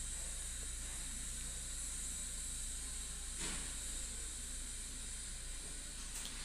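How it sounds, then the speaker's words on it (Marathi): Fish curry broth with kokum and coriander simmering in a pot, a steady close hiss of steam and bubbling with one brief louder burst midway, no talk. "रस्स्याला खूप छान अशी उकळी आलेली आहे"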